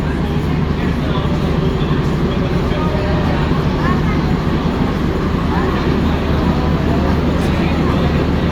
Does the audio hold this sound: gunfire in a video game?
no